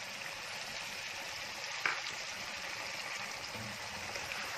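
Masala and chopped tomatoes hit chicken frying in a pan for achari chicken, making a soft, steady sizzle with a brief sharp clatter partway through. It is fairly quiet and heard alone.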